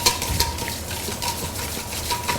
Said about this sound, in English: I'm just going to whisk until it starts to get nice and fluffy.